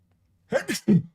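A single person sneezes close to the microphone, a sharp inhaled build-up followed by two quick bursts, in an otherwise silent room.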